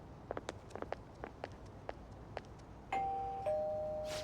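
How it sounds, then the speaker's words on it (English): A two-tone doorbell chime rings in the video game Persona 5 Royal, the sustained ding-dong tones coming after a series of soft footstep taps and standing out clearly and fairly loud. "You ring the bell."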